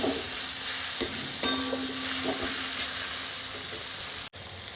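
Turmeric and red chili paste frying and being stirred in a pan, a steady close sizzle running throughout with occasional scraping stirs, cut off abruptly near the end.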